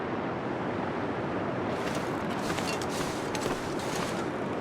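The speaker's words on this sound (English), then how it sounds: "So it's going to be a windy day." Steady gusting wind in The Long Dark, a loud continuous rushing roar that swells slightly partway through, with no other sounds.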